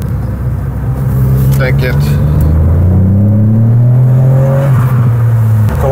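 A 2019 Ford Fiesta ST with a 200 hp engine pulls hard, its loud, close engine note climbing steadily in pitch as it accelerates, with a brief spoken word over the cabin drone.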